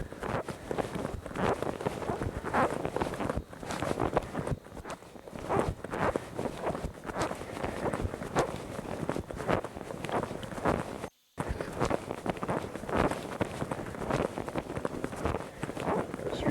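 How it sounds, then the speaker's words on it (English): Steady footsteps thud on a hollow wooden boardwalk at a beach, a continuous brisk rhythm with some light wind, close and fairly loud. "I like the sound of the boardwalk when you're walking on it."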